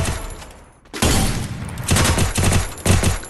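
Gunfire in the Free Fire video game: loud, close bursts of rapid automatic shots, a short pause, then repeated volleys of fire one after another.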